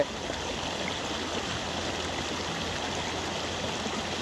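Water flowing along a rural irrigation canal near Kadni village, a steady close rushing and gurgling wash that stays even throughout with no voices.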